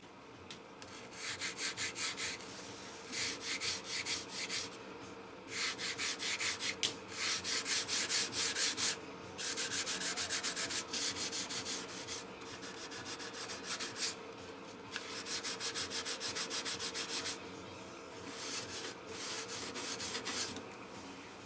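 Hand sanding on the wood of a 1931 Martin C-1 guitar, heard up close as repeated rhythmic back-and-forth scratchy strokes coming in bursts separated by short pauses, with no talk.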